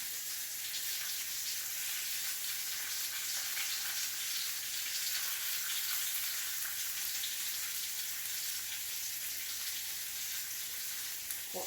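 Pork chops seasoned with garlic powder and red pepper flakes fry in a pan, giving a steady, even sizzle that carries on without a break, fairly soft, with no one talking over it.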